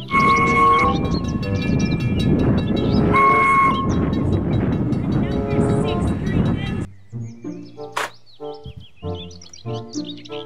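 Electronic toy high-speed train sounds: bright whistle-like tones and chiming beeps over a rattling background, followed by a sparser run of synthetic chirps.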